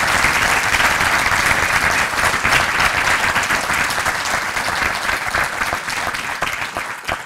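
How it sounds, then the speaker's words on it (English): Loud, dense applause from a lecture audience after a talk on the Kepler exoplanet mission, a continuous roar of many hands clapping close by that holds steady and eases off near the end. "I'd like to give a big round of applause to Geert and to Jeff for wonderful talk."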